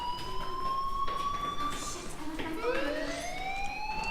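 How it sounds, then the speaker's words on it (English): A fire alarm wails in the video game Life is Strange: steady electronic tones sliding up and down in a siren-like pattern, continuous and fairly prominent throughout. "Hey, do you hear that fire alarm?"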